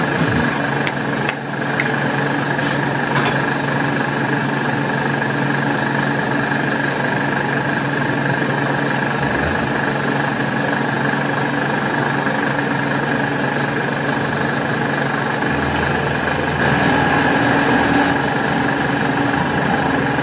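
A milling machine drives an end mill cutting a keyway, giving a steady, close motor hum with a continuous whine that runs unbroken throughout, and no talking.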